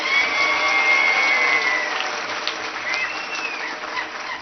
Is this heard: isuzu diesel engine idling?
no